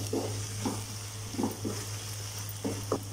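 Egg thokku masala being stirred with spices and salt in a pan, a spoon scraping in several short bursts over a steady low hum, soft and close with no voices.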